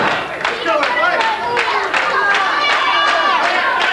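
Crowd at a 1986 CWA wrestling match cheering and clapping for Billy Travis, a busy roar with scattered claps and shouts under voices.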